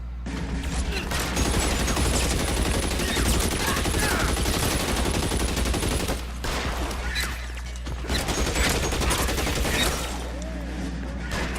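Sustained heavy gunfire in the video game LA Noire, with dense overlapping shots and bursts rattling on loudly for several seconds, a short lull, then more shots mixed with faint voices.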